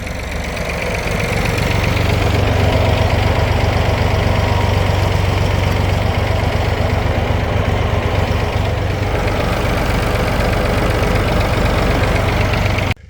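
A tractor engine runs loud and close in a riding arena, a steady, rough, knocking diesel drone that holds level throughout before cutting off abruptly at the end, with no talking.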